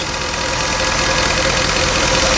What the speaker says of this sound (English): A little bit of a lifter tick there.